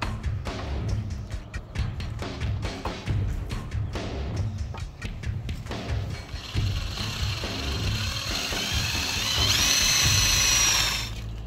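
A battery-powered cordless drill bores a hole for a homemade Jason Voorhees hockey-mask Halloween prop, whirring loud and close with stop-start bursts and a high whining spin-up near the end.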